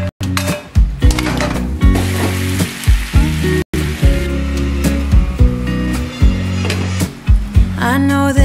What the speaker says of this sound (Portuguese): E aí eu vou fazer o bacon.